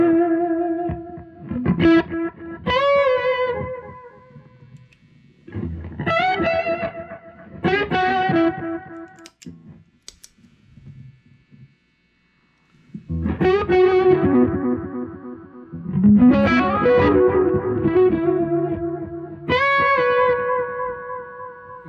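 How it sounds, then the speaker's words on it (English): Electric guitar through a mini delay pedal with regeneration turned up, playing chords and picked notes that smear into repeating echoes and swell, with one brief pause before the repeats build again; no talking. "So we'll turn up the regen and the delay."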